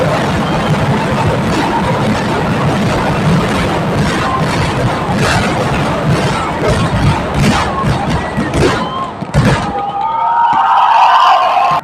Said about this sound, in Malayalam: അങ്ങനെ നമ്മുടെ പാറമേക്കാവ് വെടിക്കെട്ട് പൊട്ടിയിട്ടുണ്ട്.